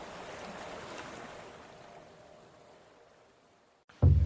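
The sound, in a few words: rippling ocean waves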